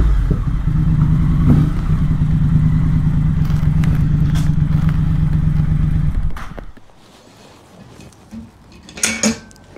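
A motorcycle being ridden with a tracking device fitted: a loud, steady engine drone close by for about six seconds, then it fades out, leaving a short clatter near the end.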